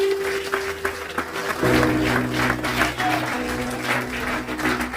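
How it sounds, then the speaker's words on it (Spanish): Loud applause fills a church service, dense clapping running steadily for several seconds with a sustained tone underneath, likely music or organ, and no speech over it. "Dale un aplauso fuerte al Señor."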